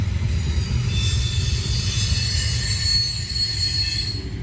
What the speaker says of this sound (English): Because this train is a monster.